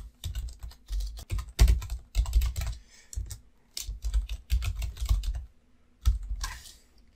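Keys on a computer keyboard tapping out a username and password, a near, steady run of quick clicks in bursts with short pauses, no voices.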